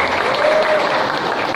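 Loud, dense audience applause continues unbroken for a moment at a village gathering, a steady wash of many hands clapping with a faint voice underneath.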